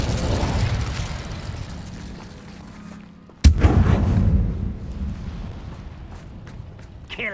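An Incendio fire spell cast in the Hogwarts Legacy video game goes off as a sudden loud burst, then a roaring crackle that fades over a few seconds, after a stretch of rumbling game ambience.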